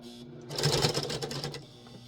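A sewing machine runs in a short burst of rapid stitching, close and fairly quiet, then slows and stops.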